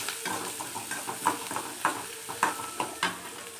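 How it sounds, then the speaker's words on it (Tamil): Vegetables sauté in a pan under a soft hiss, with a quiet repeated scrape-and-tap of stirring every half second or so, close and without talk. "நல்லா வதங்கட்டும்."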